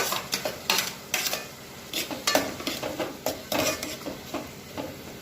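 Garlic chili paste stirred into frying chopped onions, with a spoon scraping and knocking against the pan in a steady rhythm of strokes over a close, continuous sizzle.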